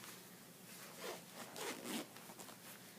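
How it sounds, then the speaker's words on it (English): A zipper on the front pocket of a knitting needle case is pulled in a few short, quiet rasping strokes, close and soft, with no talking. "It has a front zipper pocket."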